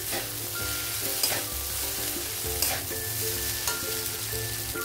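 Noodles are stirred and fried in a pan, with a steady sizzle and scraping stirs that repeat in a loose rhythm, close and with no voices.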